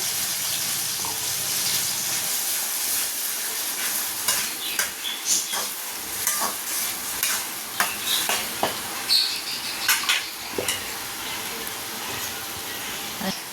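Ground tomato paste sautéing with small onions in a pan for tamarind kuzhambu, a continuous hiss and sizzle broken by clinking stirring strokes, with a faint voice underneath.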